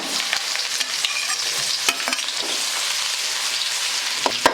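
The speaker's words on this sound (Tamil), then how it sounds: "இஞ்சி பூண்டு வந்து நல்லா வதங்கிட்டுங்க" Ginger and garlic sautéing in oil with biryani spices for radish rice, a dense close sizzle with frequent spoon-stirring clicks and scrapes throughout.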